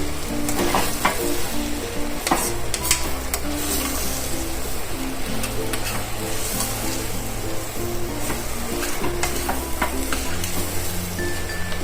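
Vegetable khichdi with red chilli powder, garam masala and coriander-cumin powder being stirred in a pan, a steady loud sizzle with repeated scraping clinks of the spoon throughout, no voices.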